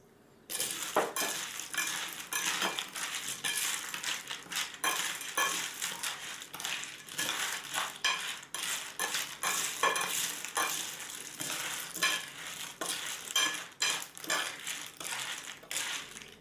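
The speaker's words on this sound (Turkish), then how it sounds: "Bunu bir kaşık yardımıyla karıştırıyorum." A spoon stirs a salted flour mixture through pistachios in a bowl, giving continuous gritty scraping and rattling with repeated clicks of nuts, steady and close, without talk.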